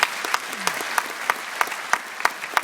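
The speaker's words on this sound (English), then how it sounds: "why not give them a round of applause as well" Audience applause at a citizenship ceremony in the Dublin Convention Centre: a steady, moderately loud patter of many hands with a few sharper claps standing out.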